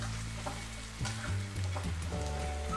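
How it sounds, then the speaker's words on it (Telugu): Potatoes frying in a pan until brown, giving a continuous close sizzle with occasional stirring scrapes and a steady low hum underneath, no voices. "మనం దీన్ని దూరగా ఫ్రై చేసుకుందాం. బ్రౌన్ కలర్ వచ్చేంత వరకు"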